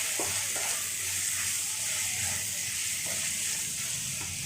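Ginger garlic paste frying in a pan for sweet corn pulao, giving a steady close sizzle and crackle with a few soft stirring knocks throughout, no voices.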